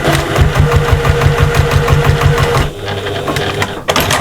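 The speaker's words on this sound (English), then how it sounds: "and then we're top stitching" A sewing machine runs top stitching across bag webbing, a fast regular mechanical chatter for about two and a half seconds that stops. Then a lower, quieter hum continues, ending in a short click.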